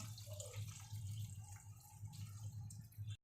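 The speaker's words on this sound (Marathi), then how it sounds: "पाणी टाकते." Water poured into a pan of baby prawn and brinjal curry, a steady trickling, dripping splash with a low hum beneath, close by and moderately quiet, running without a break for about three seconds.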